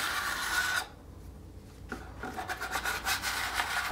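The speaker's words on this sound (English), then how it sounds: "always scrape your bucket down so you don't get dry chunks on the side of your bucket." A tool scrapes down the inside walls of a drywall mud bucket, clearing dried joint compound: a rasping rub, a short pause, then a quick series of close, loud scraping strokes.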